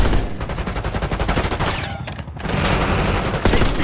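Dense automatic gunfire from a Black Ops 6 firefight rattles in rapid bursts, loud and close. It pauses briefly midway, then resumes as heavy sustained shooting.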